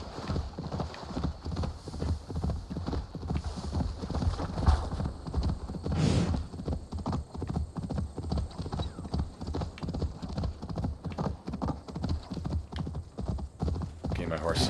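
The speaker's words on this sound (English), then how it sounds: "my horse seems to be running out of stamina a bit, so we shall let up on the galloping" Horse galloping in Assassin's Creed Valhalla: fast, steady rhythmic hoofbeats throughout, close and continuous, with a brief neigh and soft game ambience, a voice talking over it at times.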